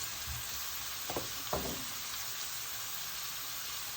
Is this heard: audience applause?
no